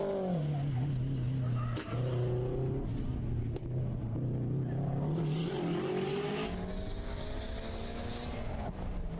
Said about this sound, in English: Steve Anstey in the Subaru STI all-wheel drive.